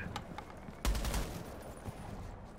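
Gunfire from a weapon in Rainbow Six Siege arrives as short, rapid bursts of sharp shots, the heaviest cluster near the middle, fairly quiet overall with game ambience between volleys.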